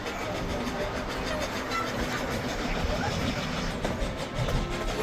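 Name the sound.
narrow gauge train departing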